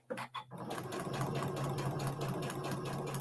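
A sewing machine runs fast and steady for about three seconds after a couple of quick starts, its rapid stitching a close, even whir during foundation paper piecing.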